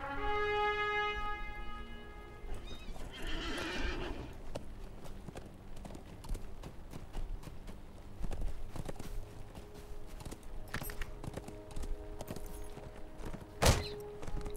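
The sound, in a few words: horse hooves clip-clopping in Lord of the Rings Online video game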